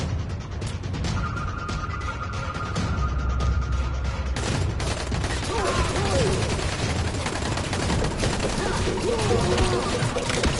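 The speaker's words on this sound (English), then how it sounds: "Let's pull out the gun. Let's just kill him." Gunfire in the video game Dying Light: The Following, with a rapid, dense string of shots and mechanical clatter that is loud and continuous for about ten seconds.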